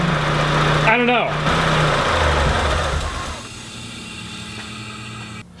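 A supercharged rally Mazda Miata engine idles loudly and unevenly on its first start, its rumble gradually easing, while a person speaks briefly over it.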